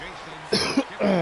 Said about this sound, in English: Still working on a little bit of a cough here.